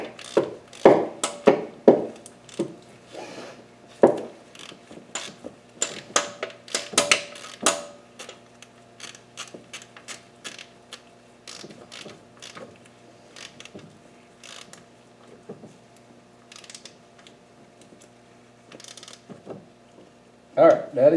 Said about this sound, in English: it is possible to do with a single 10mm deep wall and a flexi head ratchet